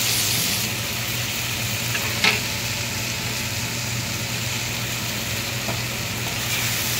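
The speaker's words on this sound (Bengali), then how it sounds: "এবার এটাকে একটু নাড়াচাড়া করে এর সাথে ওই ঢ্যাঁড়স মিশিয়ে ভেজে রাখা ঢ্যাঁড়সটা" Fried okra with onions sizzles steadily in a pan as it is stirred, a continuous frying hiss with a low hum beneath and one brief louder scrape.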